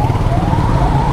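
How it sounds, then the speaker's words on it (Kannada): An ambulance siren wails steadily through the whole moment, loud and close, riding over the rumble of surrounding road traffic. "ಆಂಬ್ಯುಲೆನ್ಸ್ ಬೇರೆ ಬರ್ತಾಯಿದ್ದೆ"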